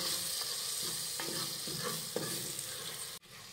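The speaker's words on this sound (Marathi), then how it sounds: "टोमॅटो घातल्यानंतर हे व्यवस्थित परतूयात" Tomatoes sautéed with spices in a pan for a potato and pea pulao, giving a constant bright sizzle with a few scraping stirs of the spatula, ending in a brief sudden drop to quiet.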